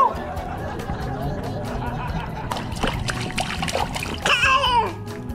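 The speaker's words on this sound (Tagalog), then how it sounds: "Dadagdag po kami ng mainit na tubig." Hot water splashes and trickles into a bath under busy overlapping chatter from adults and children, the pouring steady and mid-distance throughout.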